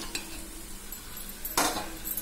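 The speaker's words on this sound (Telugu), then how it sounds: "తలకాయ ముక్కలు యాడ్ చేస్తున్నానండి" Goat head pieces drop into a cooking pot with a brief clatter and a short sizzle, close and fairly quiet, a faint earlier clink before it.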